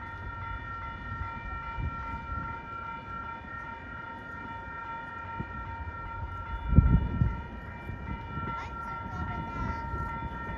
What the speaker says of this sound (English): We got the train heading for Haverhill, about to arrive on track 1 here at Melrose Highlands.